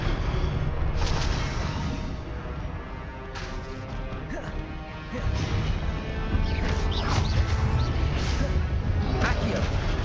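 Confringo and Incendio spell blasts in Hogwarts Legacy fire one after another as dense, crashing bursts over a loud, continuous battle backdrop, with no pauses between impacts.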